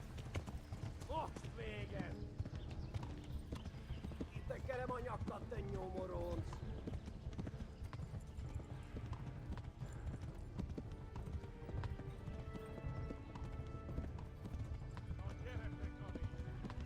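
Horse hooves gallop in the medieval game Kingdom Come Deliverance, a steady, rapid clip-clop that runs unbroken for the whole stretch while a voice talks over it.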